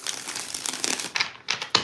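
A deck of tarot cards being shuffled, giving stiff, uneven papery crinkles and flicks that end in a few sharper snaps, heard close with no talk.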